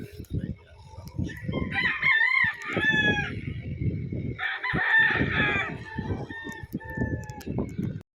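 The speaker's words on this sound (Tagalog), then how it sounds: "nandito na po yung manok mo sa holding area" Two loud, close rooster crows ring out over steady clucking from several chickens on a farm in Rizal, with a few other birds calling in the background.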